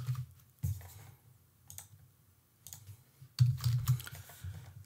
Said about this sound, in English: I'm gonna go and type HDR here.